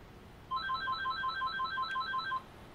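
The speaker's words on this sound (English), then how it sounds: "Sorry if you hear a phone in the background." A phone rings in the background with a repeating electronic ringtone, a steady run of quick bright beeps that starts suddenly and stops after about two seconds, moderately faint and alone.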